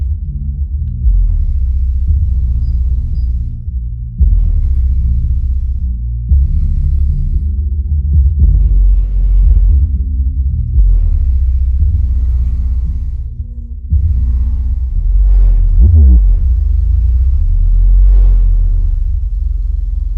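An Arizona Power Company 10000 limited edition amplifier drives subwoofers in a quad box, giving loud, deep bass rumble and throbbing pulses that run almost continuously, with brief dips between bursts and no talk.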